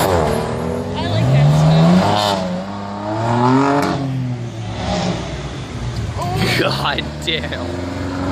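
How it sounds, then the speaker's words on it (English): A car doing a burnout at a car show, its engine revving repeatedly in loud rising and falling surges, with a shout and crowd chatter over it. "Do a burnout!"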